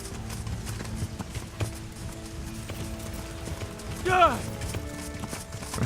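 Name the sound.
horse galloping, from the video game Kingdom Come Deliverance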